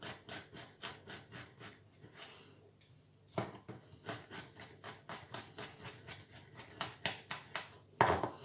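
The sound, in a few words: knife chopping garlic thinly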